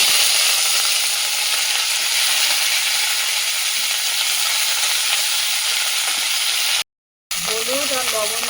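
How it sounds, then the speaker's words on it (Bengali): Cauliflower pieces fry in hot oil in a kadai with turmeric and salt. A loud, continuous, close-up sizzle hisses steadily, then cuts out briefly, and a voice speaks at the very end. "এবার ফুলকপিগুলো ভেজে নেব।"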